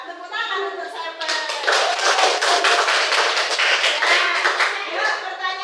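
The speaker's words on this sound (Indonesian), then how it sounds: "Tepuk tangan untuk Seven" A primary-school class clapping for a pupil, steady rapid applause from many small hands, close and lively, lasting several seconds.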